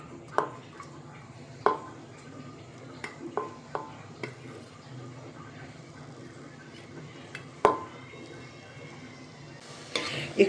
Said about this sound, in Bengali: একটু নাড়িয়ে নিলাম ঘিতে